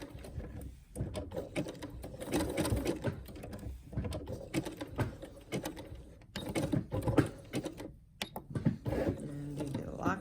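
A sewing machine stitches appliqué circles onto a quilt block, finishing with a lock stitch; a busy mechanical whir runs in uneven bursts with short pauses, close by and moderately loud.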